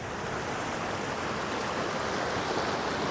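Milky-white water rushes continuously through a paved village channel, a steady, full broadband wash that stays close and even with no talking.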